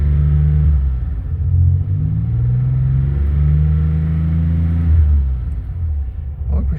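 A Maserati Biturbo engine is heard up close, deep and loud, with the revs rising and falling in a long rumbling sweep as the throttle opens, then settling back.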